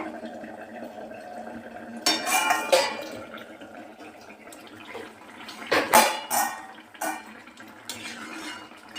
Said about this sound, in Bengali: আমি এবার ঢাকনাটা খুলে দেখে নিচ্ছি এটা আলুটা সিদ্ধ হয়েছে কিনা।